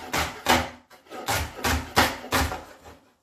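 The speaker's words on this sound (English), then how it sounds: "Just keep chopping through, move your fingers." A knife chops wild garlic and nettles on a wooden board in a series of firm, rhythmic cuts, close up and without any talk.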